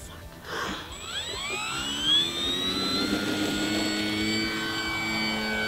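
A DuraFly Tundra RC airplane takes off with a steady electric motor whine that climbs in pitch as the throttle rises, holding a continuous drone in calm, windless conditions.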